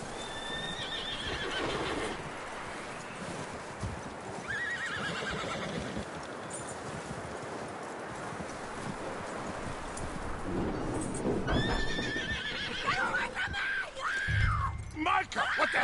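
Horse whinnies and hoof clip-clop in Red Dead Redemption 2, with several drawn-out neighs near the start, middle and end over a rustling, windy outdoor backdrop, along with voices talking.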